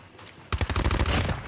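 A rapid burst of automatic gunfire from a CBR gun in a shooter video game, several sharp close shots in quick succession after a brief quiet start.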